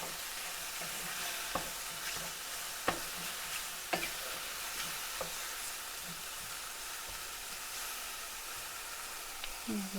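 Onions and mushrooms frying in a pan, a continuous close sizzle with intermittent scrapes and taps of stirring, no voices.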